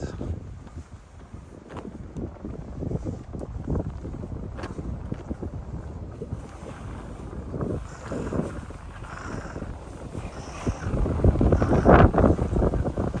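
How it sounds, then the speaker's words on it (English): Strong wind gusts through Kinuta Park in Tokyo, buffeting the microphone with uneven rumbling bursts that swell louder toward the end, with no other sounds standing out. "I didn't expect it to be this windy over here."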